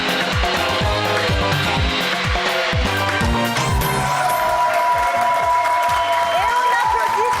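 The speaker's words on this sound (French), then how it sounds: "Applaudissements." Studio audience applause on a French TV talent show, loud and continuous, blended with a punchy musical jingle with drum hits and sustained tones.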